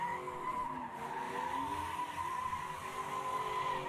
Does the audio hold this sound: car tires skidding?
yes